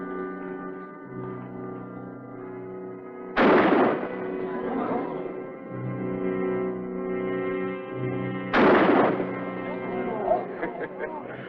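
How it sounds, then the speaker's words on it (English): Two loud, booming gunshots ring out several seconds apart in a western film, each with a long echoing tail, over a sustained droning background tone. "That's 5 shots"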